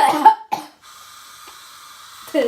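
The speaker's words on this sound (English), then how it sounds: "My over the top cough." A single exaggerated, over-the-top cough bursts out loudly at the start, followed by a short second cough, then a faint steady hiss until another brief burst near the end.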